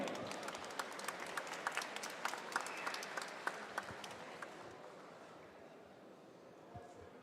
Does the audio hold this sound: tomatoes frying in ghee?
no